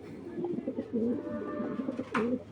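A male pigeon calling to a female, giving close, repeated low throaty coos in a steady rhythm against a soft background.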